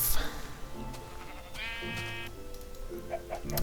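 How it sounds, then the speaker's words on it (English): A Minecraft sheep bleats once with a wavering, nasal cry over quiet game background sounds, heard at moderate distance. "I think that's a sheep out there."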